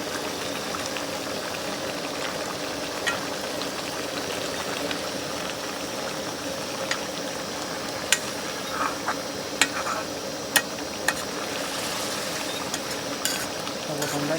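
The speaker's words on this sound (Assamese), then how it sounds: "এতিয়া ভালকৈ আকৌ মিলাই দিব লাগিব" Fish curry bubbles steadily in a pot, a continuous simmering hiss broken by a few sharp clinks of a spoon stirring and mixing.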